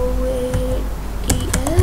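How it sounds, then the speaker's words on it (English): A few quick keystrokes clatter on a computer keyboard in a short burst near the end, following a brief voice murmuring at the start. "So like, I have a folder in downloads, so I'll type shift capital D."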